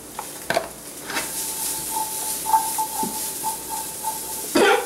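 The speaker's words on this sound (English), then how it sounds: "very little oil I put in there, just a nice little simple dry toast going on here" Chickpeas dusted with cayenne toast in a pan with very little oil, giving a soft steady sizzle with a few stirring scrapes and clinks, close and moderate in level, with no talk.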